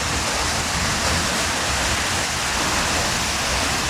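A waterfall near the Furka Pass in Switzerland roars steadily with a loud, dense, broadband rush of falling water, close by and unbroken, with no voices over it.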